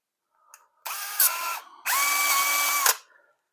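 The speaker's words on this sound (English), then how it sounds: "work the drill in and out. When I pull up on it, it's going to be grinding away on the valve" A power drill spins an engine valve against grinding compound to lap it, whirring in two bursts, a short one then a longer steady run, close by with a slight grinding edge.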